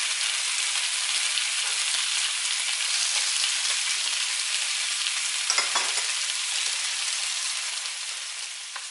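Pork ribs and peppers sizzle on a flat griddle in a continuous close hiss and crackle, steady throughout with a brief stir or shift near the middle, no voices.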